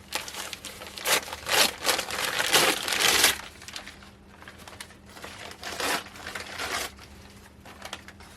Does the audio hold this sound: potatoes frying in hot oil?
no